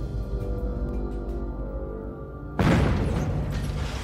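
A stage explosion during a death-defying escape magic trick bursts in suddenly after a low rumbling hum, then a loud, broad roar lingers for over a second.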